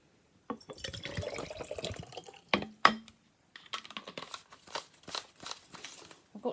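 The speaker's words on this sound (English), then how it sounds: "tip it out of my spray bottle." Water tipped out of a spray bottle, with splashy pouring and dripping bursts, a couple of sharp knocks midway, then intermittent trickles, near and fairly quiet.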